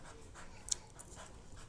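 A dog pants hard and fast nearby, rapid rhythmic breaths that keep a steady pace, with one brief sharp tick partway through and no voices.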